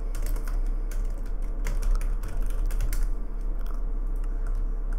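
Rapid clicking of keys on a computer keyboard, steady and close, with uneven bursts of keystrokes and no voices.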